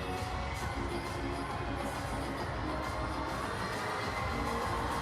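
A large crowd in Yudong Arena roars and cheers at a Cup of China pairs free skating event, a dense, sustained wash of distant voices and applause with no break.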